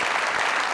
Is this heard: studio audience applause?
yes